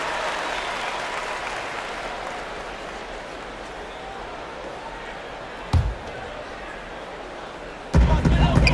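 Crowd applause and cheering in an NBA 2K18 basketball game between the Los Angeles Lakers and Los Angeles Clippers, a steady arena roar under play-by-play commentary, with louder bursts near the end.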